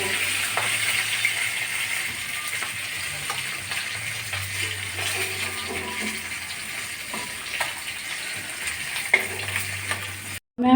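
Rohu fish pieces frying in hot oil, a loud steady crackling sizzle with occasional stirring clicks, running continuously before stopping suddenly at the end.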